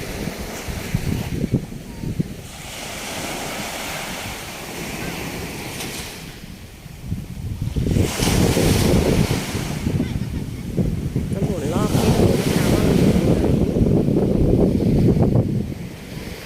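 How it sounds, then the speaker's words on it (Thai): Surf washes ashore at Saeng Chan beach in Thailand, with repeated loud surges of breaking waves and steady wind buffeting the microphone. "นี่หาดแสงจันทร์ค่ะ"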